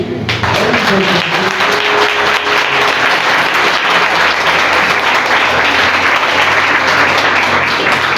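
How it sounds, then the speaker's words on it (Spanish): Loud, sustained applause from a church congregation praising Jesus during a Spanish-language sermon, a thick steady wash of many hands clapping close by, with a faint voice at the very start. "¿Qué no le da un aplauso a Jesús?"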